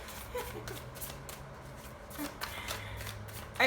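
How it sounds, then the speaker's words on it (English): A deck of tarot cards being shuffled by hand, giving soft, rapid papery riffles and flicks that come and go at close range, fairly quiet, with a sharper burst at the end. "I have a hard time shuffling on camera because it takes me forever to shuffle."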